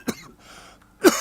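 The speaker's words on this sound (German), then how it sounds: "Also so wie du hustest," Two short, sharp coughs, close and fairly loud, separated by a brief quiet pause.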